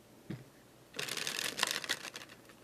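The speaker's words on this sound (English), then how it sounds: "I'm going to show you how they shuffle." A thick cardstock tarot deck being shuffled by hand, one soft tap and then a burst of quick riffling card flutter lasting about a second and a half, close and fairly quiet.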